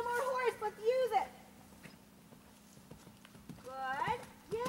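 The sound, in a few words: horse hooves clip-clopping during riding lesson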